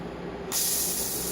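A zucchini fritter hits an iron skillet as it is flipped, the steady sizzle jumping into a loud, bright hiss that holds on without pause.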